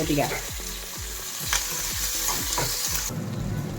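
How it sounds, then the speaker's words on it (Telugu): Crushed onions and curry leaves frying in oil after mustard and cumin seeds for a chutney tempering, a close steady sizzle with about seven rhythmic scraping stirs of the spatula, the hiss briefly softening near the end. "సన్నగా దంచి పెట్టుకున్న ఉల్లిపాయలు, కరివేపాకు ఇవన్నీ వేయించుకుందాం"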